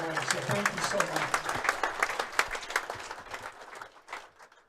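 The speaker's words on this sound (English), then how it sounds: "Let's give them a round of applause for keeping this tradition going." Audience applause at a bowling tournament's memorial shootout qualifying, a moderate burst of clapping from a modest crowd that thins and fades out over a few seconds, with a voice briefly under it.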